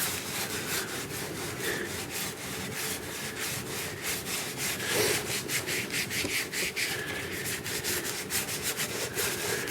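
Scrubbing the old finish off a small wooden item: steady, fast back-and-forth rubbing strokes, close and continuous, with a gritty abrasive texture throughout and no talking.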